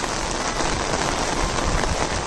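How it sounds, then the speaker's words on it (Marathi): Steady rain patters loudly and continuously on surfaces outdoors, a dense unbroken hiss of drops close to the listener with no talking. "आणि पाऊस आलेला आहे मित्रांनो, बघू शकता।"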